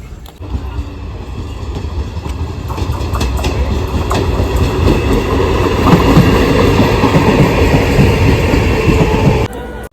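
A passenger train rolls along the rails with a loud, continuous rumble and rattle and a steady clatter of the wheels, with no talking.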